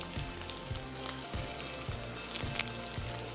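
Green chillies and curry leaves sizzle in hot oil with ginger and garlic, a steady dense crackle broken by soft periodic stirring thumps, close and fairly quiet, no voices.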